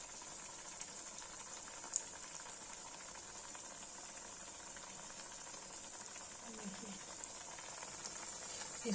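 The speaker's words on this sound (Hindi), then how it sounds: "ये देखिए, इनकी फ्राई हो रहा है।" Lotus stem (nadru) and ginger balls deep-frying in hot oil, a steady faint hiss and bubbling sizzle that runs unbroken from start to finish, with no talking over it.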